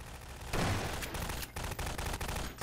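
Shotgun blasts from Half-Life 2 gameplay: one loud, sharp boom opens the sequence, then several further booming shots and clattering impacts follow at short uneven intervals, close and heavy.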